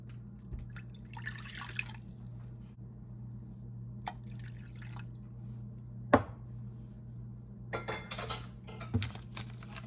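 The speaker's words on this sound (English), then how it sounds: "I'm just going to get this mixed together." Gravy mix being stirred into a cup and a half of cold water for a Thanksgiving meal, with faint liquid sloshing and light utensil clinks against the bowl, plus one sharper knock, over a steady low kitchen hum.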